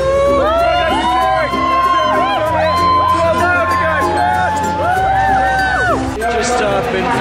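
A crowd at the Insomnia gaming event cheers and whoops loudly, with shouting voices and bursts of excitement layered over steady babble and a bassy background.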